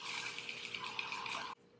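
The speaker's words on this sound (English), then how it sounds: "So hopefully this spray will help with that." Caudalie Grape Water facial mist sprays onto a dry face in one continuous hissing burst of about a second and a half, close and fairly loud, then cuts off abruptly into quiet.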